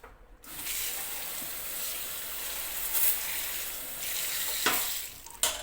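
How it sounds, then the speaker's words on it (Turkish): Water poured into a pan of rice and onion for stuffed dolma sets off a loud sizzling, bubbling rush that carries on steadily, close up with no talk. "Şimdi bunun içerisine ben bir su bardağı da su koyacağım."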